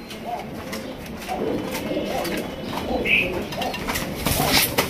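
Lotan pigeons at a farm give low, soft cooing calls, repeated through the stretch at moderate distance, with a bit of wing and background noise around them.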